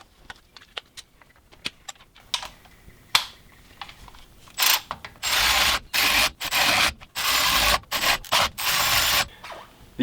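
A ratchet spins nuts onto a Land Cruiser CV axle, beginning with scattered light clicks and taps, then rapid bursts of close, loud ratcheting separated by short pauses.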